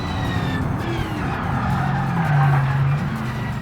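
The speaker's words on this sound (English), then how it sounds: "Ooh, starting to really warm up them front brakes." In the BeamNG driving game, a car brakes hard on hot front brakes, its tires squealing in a sustained whine over a constant engine and road rumble, loud and close.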